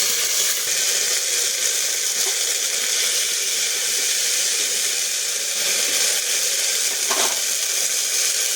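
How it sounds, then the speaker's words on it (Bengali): Whole cumin seeds and ginger paste sizzle in hot oil for a vegetarian Bengali ghugni, a loud, steady, close hiss with faint crackles and occasional stirring scrapes, without any voices. "গোটা জিরে দিলাম, আদা দিলাম।"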